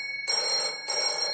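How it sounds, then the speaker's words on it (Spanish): A telephone rings in a studio setting, two bursts of bright electronic trilling separated by a short pause, steady and clear with no talking. "aquí tenemos el teléfono y esa es la llamada"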